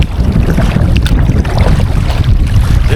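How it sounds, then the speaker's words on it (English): Strong wind buffets outdoors at Island Lake in Lost Creek, Nebraska, a loud continuous low roar and rumble of gusts hitting the microphone, steady throughout with no voices. "if it was windy like today"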